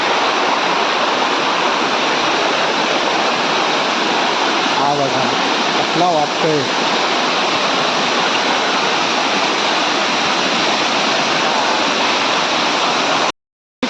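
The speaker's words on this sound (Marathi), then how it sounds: "हा आपला धबधबा कसा वाटतोय नक्की सांगा" A small waterfall hidden in dense forest at Kalambaste, Sangameshwar, in the Konkan roars in a loud, steady rush from start to finish, while a voice speaks briefly partway through.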